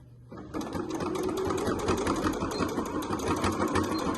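Sewing machine stitching a strap of waterproof twill fabric for a scissor holder, a close, steady continuous whir starting after a brief quiet moment and running to the end.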